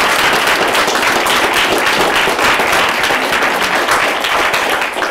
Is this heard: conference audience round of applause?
yes